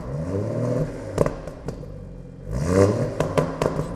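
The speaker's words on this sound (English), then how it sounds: "Already nice satisfying pop there on the overrun." A stage 2 tuned BMW F21 M140i engine revs and drops off throttle, with sharp crackling exhaust pops on the overrun, close and loud without talk.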